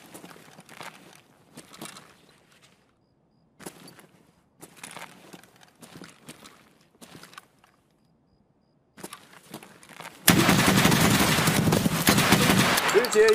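Gunfire in the tactical shooter Escape from Tarkov, a dense, loud sustained burst of hip-fired shots erupting near the end after quieter intermittent movement and scuffling sounds.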